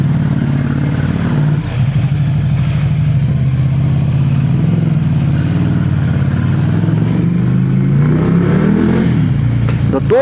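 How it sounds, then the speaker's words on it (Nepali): Ducati Monster 797 motorcycle engine running steadily and close, with a rising rev near the end over constant low rumble and wind. "Now it's time to ride the Ducati 797"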